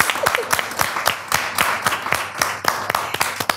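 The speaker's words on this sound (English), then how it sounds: "I think we should give this gentleman a big round of applause" An audience gives a round of applause for a cameraman at an event, loud close hand clapping with distinct sharp claps over a busy wash, no talk.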